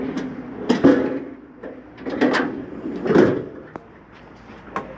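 Outdoor griddle drawer on a 2022 Mesa Ridge 364BHS RV pulled out and pushed shut, giving several close, sharp knocks and sliding thumps spaced across the clip with quiet gaps between.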